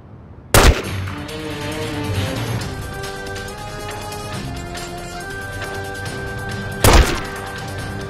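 Two loud, close gunshots ring out in The Godfather video game, spaced several seconds apart, over a continuous background of game music and ambience.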